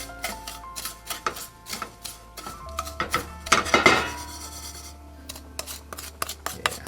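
Panko topping stirred and shuffled in a pan for a mac and cheese, giving dry scraping and rasping strokes with light metallic clinks in an irregular rhythm, close and moderately loud.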